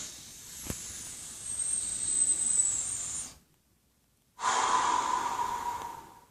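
Slow, deep breaths during a couch stretch: a long, airy inhale, a short silent pause, then a strong exhale. The breathing is close and clear, with no speech.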